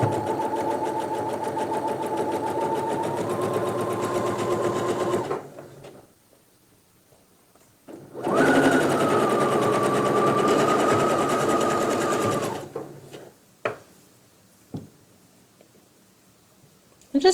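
Sewing machine stitching the hem of gauzy fabric pants with a slightly longer stitch length, running in two steady, loud, whirring bursts of about five seconds each, separated by quiet pauses with small clicks.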